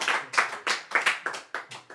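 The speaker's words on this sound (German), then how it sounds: "Ja, Applaus." Live audience applause at an intimate unplugged living-room concert, with rhythmic hand claps rising and falling in loud, close bursts and no talking over them.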